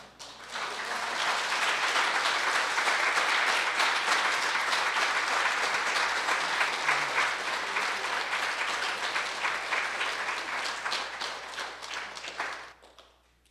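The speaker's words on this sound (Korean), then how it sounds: "할렐루야 박수로 환영하시겠습니다" A church congregation gives sustained warm applause to welcome an elder onstage for a concert, a dense, even wash of clapping building quickly, holding for about ten seconds, then fading out.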